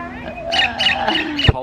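Princess parrot calling noisily at Queens Park Nature Reserve in Ipswich, with a brief close burst of harsh, raspy squawks, a low background hum and a sharp knock at the end.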